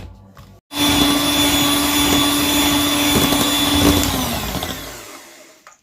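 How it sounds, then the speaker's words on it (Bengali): Electric hand beater whipping butter and sugar at medium speed, starting abruptly and holding a loud, even motor whine for about five seconds before winding down. "এখন মাঝারি স্পিডে রেখে বিটারটাকে চালিয়ে দিয়ে এটাকে আমি একটু বিট করে নেব।"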